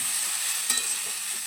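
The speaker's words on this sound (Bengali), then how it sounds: "এবারে সমস্ত মশলাগুলো সবজির সঙ্গে খুব ভালোভাবে একটু নেড়ে চেড়ে নেব" Spices are stirred into cauliflower and other vegetables in a frying pan, a soft steady sizzle with a brief scrape of the spoon partway through.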